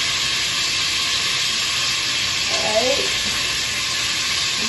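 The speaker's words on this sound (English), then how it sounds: "Adding those onions, and this my everything wooden spoon." Onions frying in butter and oil for Rasta Pasta, a loud continuous close sizzle and hiss with a brief scrape of a wooden spoon partway through.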